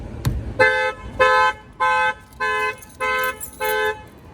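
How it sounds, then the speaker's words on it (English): A sharp bang on a tire, then a 2017 Mercedes C300 factory alarm sounds six evenly spaced loud honks in a steady rhythm, close and piercing. "I'm gonna go ahead and bang in the tire and that will set off the alarm"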